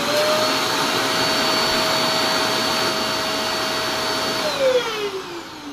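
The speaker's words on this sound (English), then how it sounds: "So we're going to listen to the vacuum first." A vacuum cleaner used for rug cleaning runs with a loud, steady whine and whoosh, then its pitch drops as the motor winds down.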